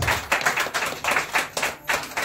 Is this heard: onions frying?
no